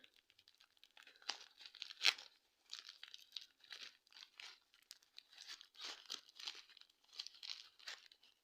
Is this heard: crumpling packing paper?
yes